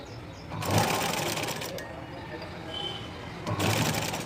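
Sewing machine running in two bursts at the start and end, stitching dress edges slowly on a small cut piece, with a quieter stretch between while fabric is held and guided.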